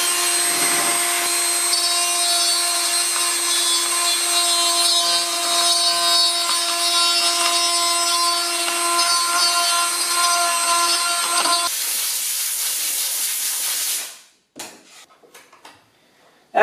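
A Dremel rotary file grinds a tail light part for a 1976 Mazda RX-5 Cosmo restoration, a loud steady high-pitched whine with a rough scraping edge, then cutting out and followed by faint handling clicks.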